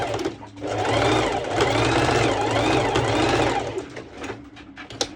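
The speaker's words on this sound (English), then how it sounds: "I'm going to do a straight stitch, and I'm going to go over a few times." A sewing machine runs a straight stitch through fabric for a festival crop top, a close, steady, rapid mechanical whirring that runs continuously for several seconds and then slows and stops.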